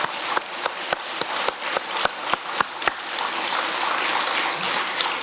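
An audience applauds Tatarstan's first president during a festive televised celebration: a few scattered claps quickly swell into steady, dense clapping that carries on to the end.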